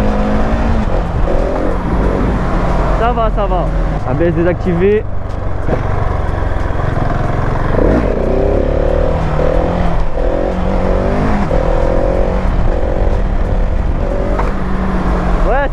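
A 2022 Husqvarna 701 Supermoto single-cylinder engine revs hard and drops as the bike lifts into a wheelie, a loud, continuous rough drone under wind noise, with a rider talking over it.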